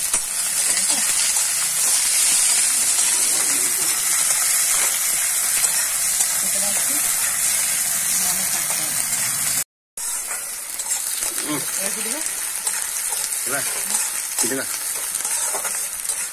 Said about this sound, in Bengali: পেঁয়াজ কুচিগুলো একটু ভালো করে ভেজে নিতে হবে